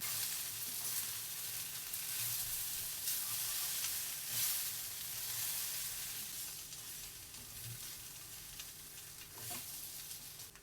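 Idli pieces fry in a pan with homemade gunpowder masala, black pepper and salt, a steady close sizzle with faint stirring scrapes, no talk.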